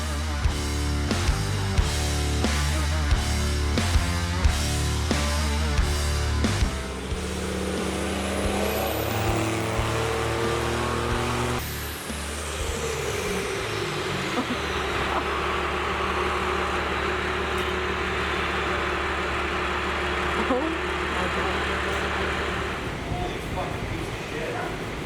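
A 12V Cummins diesel truck engine fitted with a cheap Chinese fuel plate runs on a dyno, a loud, continuous heavy roar that climbs in pitch under load with a rising whine, with people talking over it throughout.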